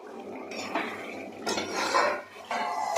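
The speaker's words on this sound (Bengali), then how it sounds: "এবার মাংসটা দিয়ে দেওয়া হচ্ছে। আস্তে আস্তে করে কষানো হবে।" Duck meat going into a pan with turmeric and chili powder, then stirred: metal utensil scrapes and clatters against the pan in bursts, with a soft sizzle between them and no talking.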